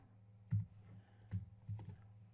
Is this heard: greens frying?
no